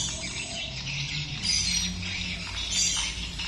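Swiftlet lure call played through a speaker, dense overlapping high chirps and twittering in a steady continuous stream, loud and close.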